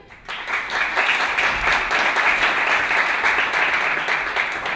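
Audience applause for a speaker at the South Summit 2017 B2B startup competition: steady, dense clapping swells in after a brief pause and carries on evenly without talk.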